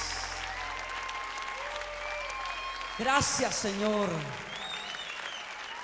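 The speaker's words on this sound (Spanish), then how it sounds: "Oh, dale al Señor un aplauso como Él merece." A worship service congregation applauds with continuous clapping under sustained music, while a voice speaks and sings over it in the middle.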